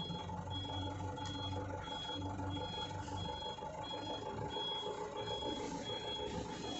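A truck backs up slowly with its reversing alarm beeping steadily, a faint, even series of tones over a low engine idle and rumble, with no talk.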